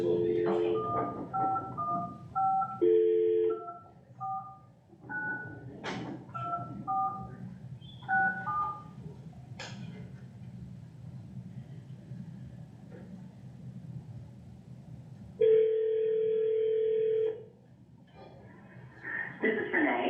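Touch-tone digits beep in quick bursts as a cell phone number is dialed, then a long steady ringback tone sounds, with people talking in a meeting room around it.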